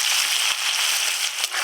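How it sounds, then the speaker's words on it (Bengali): Chopped onion hits hot oil already frying cardamom, cinnamon, mace and nutmeg, giving a steady, bright crackling sizzle close by that runs unbroken through the short moment, with no talking. "আমি এখন দিয়ে দেবো পেঁয়াজ কুচি"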